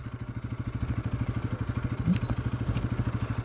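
A Bajaj NS200 BS7 motorcycle rides through snow, its single-cylinder engine putting out a steady, even low thrum of rapid pulses that holds close and moderately loud throughout.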